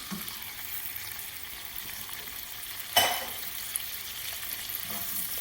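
Steady low sizzle of chopped ground almonds roasting in melted butter over a low flame, with one sharp stirring scrape midway and no voices.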